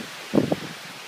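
Strong wind gust during a severe thunderstorm in Taft, Tennessee, a brief loud buffeting burst of noise against the microphone, heard alone.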